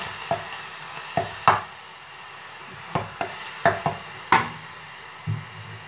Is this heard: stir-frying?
yes